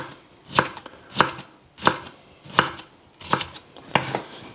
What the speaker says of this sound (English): Now whenever you're slicing up a pepper, you don't want to slice it up from the skin side because the skin is tougher